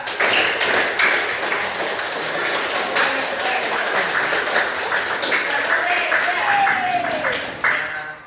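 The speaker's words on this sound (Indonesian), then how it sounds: "tepuk satu, tepuk tiga, tepuk dua, tepuk satu, dua, tiga" A school class at SMPN 1 Benakat claps together in a counted pattern, sharp group claps arriving in clustered bursts over several seconds, fairly loud and close, with voices mixed in.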